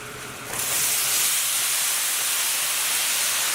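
Bamboo shoots hitting a hot pan in a stir-fry, a loud steady sizzling hiss that bursts in suddenly and holds strong and close, with no talking.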